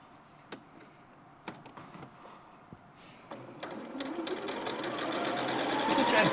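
A sewing machine runs a short lock stitch on a quilt, starting with a few sparse clicks and thumps before building into a fast, steady mechanical whir that grows louder and closer toward the end.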